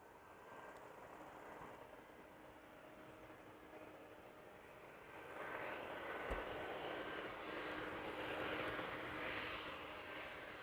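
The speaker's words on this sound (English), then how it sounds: "A Dreamliner arriving from New York JFK." A Boeing Dreamliner arriving from New York JFK at Amsterdam Schiphol, a steady, fairly distant engine roar that swells louder midway, with no talk.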